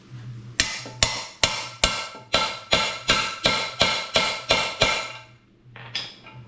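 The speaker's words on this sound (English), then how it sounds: "we're going to tap it in" A bearing tapped into a Yamaha JN6 gas golf cart engine block with an impact socket: about a dozen loud, evenly spaced metallic hammer strikes, each ringing briefly, then a pause and a fainter final tap.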